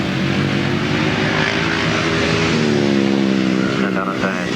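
A Jawa 350 grasstrack racing motorcycle winds its engine up out of a turn at a July 1994 meeting in Frittenden, a loud rising drone with engine harmonics climbing in pitch as a commentator talks over it.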